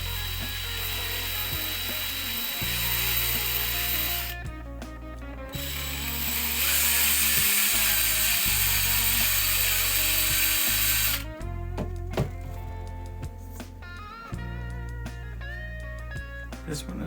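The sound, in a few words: drilling holes in painted resin miniatures for magnets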